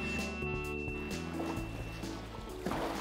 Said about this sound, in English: This rescue boat is on some really rocky waves.